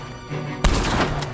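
Gunfire in the Red Dead Redemption 2 video game, with a sharp, loud shot bursting in over a low steady rumble and game noise, followed by continuing dense crackle.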